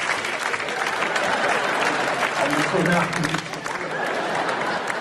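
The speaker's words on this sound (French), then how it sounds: "C'est eux qu'on raccompagne sous vos applaudissements." A theatre crowd at a comedy performance keeps up sustained, even applause from start to finish, with a voice briefly audible beneath the clapping.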